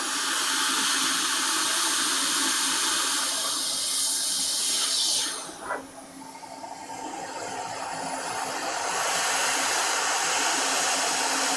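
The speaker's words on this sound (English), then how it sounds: "Vacuum sound doesn't help." A vacuum runs with a steady, loud, broadband rushing roar that dips briefly midway, then builds back to full strength, with no talk over it.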